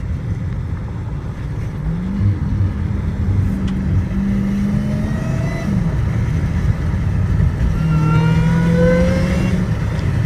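An 800-horsepower Dodge Challenger Hellcat Redeye rumbles and revs while driving on rain-soaked roads. The engine note climbs in rising pitch sweeps over a deep, loud, close drone with road and tyre noise beneath.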